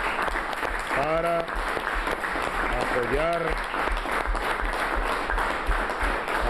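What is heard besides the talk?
audience applause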